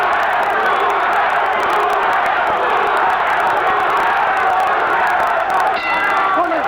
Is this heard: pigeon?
no